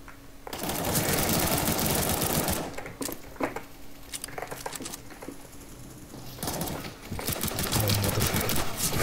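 Rapid bursts of Counter-Strike: Global Offensive gunfire rattle in clusters with brief pauses between them, fairly loud and dense.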